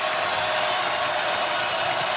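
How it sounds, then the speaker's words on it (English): Roaring arena crowd during a college basketball game, a dense, constant wash of cheering and clapping from many spectators, loud and unbroken for the whole stretch. "crowd getting into it now"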